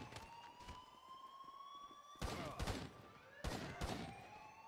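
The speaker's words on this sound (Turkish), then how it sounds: "Bir mermi sıkıyor." Video game gunfire gives several sharp, sudden shots, one early and then two quick pairs, heard over a steady wailing siren tone in a busy game scene.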